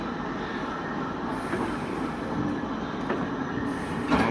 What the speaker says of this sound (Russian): Вот и тепловоз.